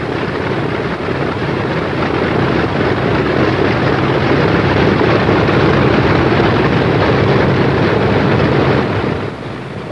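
A McDonnell Douglas A-20 aircraft taxiing on the ground, its engines giving a loud, steady, broadband roar that holds for nearly the whole span before easing off at the very end.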